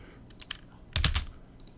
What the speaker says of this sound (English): So I'm just pressing the S key, pressing enter, clicking, pressing S